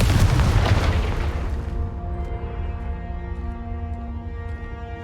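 Confringo blasting spell explosion in Hogwarts Legacy, a heavy booming blast that hits loud at once and decays into a long, ringing tonal tail fading over several seconds.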